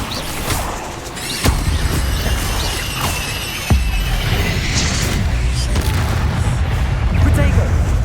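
An Incendio fire spell in Hogwarts Legacy bursts with loud booming blasts, two sharp cracks standing out among crashing, crackling impacts, close and forceful, with game speech beneath.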